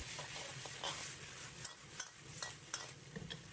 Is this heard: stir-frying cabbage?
yes